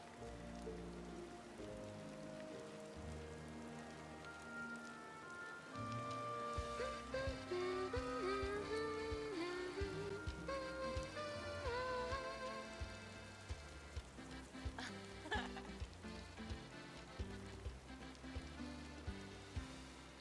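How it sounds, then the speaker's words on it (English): Rain falling in the Disney Dreamlight Valley video game, a soft steady patter under a gentle melodic game music score, fairly quiet and continuous with no talking. "a drizzle will lead to a sprinkle."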